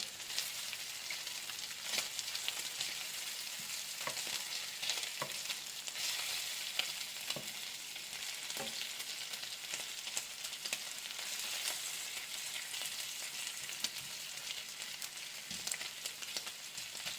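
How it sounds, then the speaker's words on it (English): Small pieces of bacon fry in a pan, giving a steady close sizzle with scattered scrapes and taps as they are stirred and turned over. "Turn over all them little pieces. You don't want raw bacon either."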